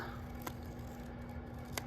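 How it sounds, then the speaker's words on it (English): Scissors cut a curve in paper: a faint, close crunch of paper with two brief snips about a second apart over low room hum. "you would just take your scissors and kind of just cut a curve"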